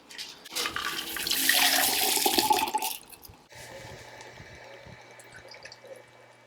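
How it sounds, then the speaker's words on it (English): A French 75 cocktail strained from a small tin into a champagne flute, a loud steady pour of liquid for about three seconds, then quieter trickling and faint clinks. "One thing I like to do is to strain the drink in the smaller tin. It just makes it a little easier to pour in the flute."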